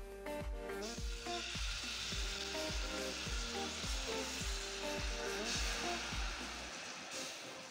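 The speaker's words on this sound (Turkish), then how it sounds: "Şimdi şerbetimizi döküyoruz." Warm syrup poured over hot Kilis cennet çamuru dessert sets off a loud, continuous hissing sizzle that holds steady for several seconds, with a low rhythmic thumping underneath.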